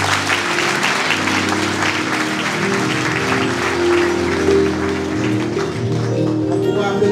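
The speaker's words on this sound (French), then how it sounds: "Pour applaudissements à nouveau" Sustained applause from a church congregation at a Baptist church's 73rd anniversary celebration, steady and dense throughout, with a low hum of music or organ tones underneath.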